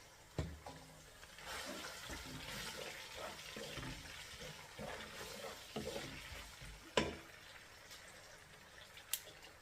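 Chopped onions sizzle in hot oil in a pan, with repeated stirring scrapes over a steady frying hiss and a sharp knock near the end. The sound is fairly quiet and there is no talking.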